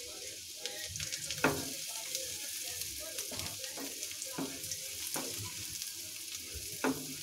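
Garlic fries in a pan for garlic potato rings, a soft continuous sizzle broken by scattered sharp taps and scrapes of a spoon stirring against the metal.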